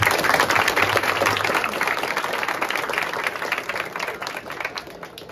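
A crowd claps loudly and steadily at an outdoor Govinda troupe practice opening, the dense applause continuing throughout and easing slightly toward the end.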